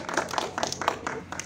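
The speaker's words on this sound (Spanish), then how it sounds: "Aplauso, gente, aplauso." An audience at a rap battle semifinal claps in a quick, even rhythm, about four sharp claps per second, moderately close and loud.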